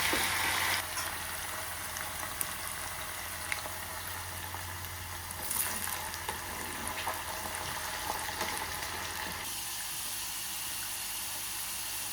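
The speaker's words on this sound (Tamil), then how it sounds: "இப்போ நான் இதை கொஞ்சம் கொஞ்சமாக போட்டு பொரிச்செடுக்க போகிறேன்" Steady dense sizzling and crackling of potatoes frying in hot oil, continuous and fairly loud throughout, easing slightly near the end.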